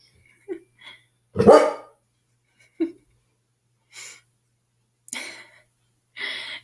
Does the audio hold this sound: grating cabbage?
no